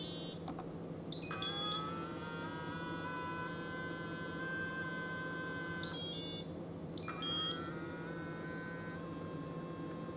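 Anova Precision Cooker 3.0 sous vide running with a low steady hum, while shrill rising electronic whines come and go on top in three separate bursts.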